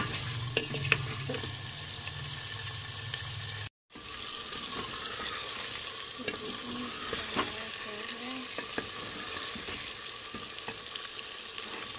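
Chicken pieces frying in a pan, a strong continuous sizzle with repeated scraping and clatter of stirring, briefly cutting out before the frying and stirring resume close up.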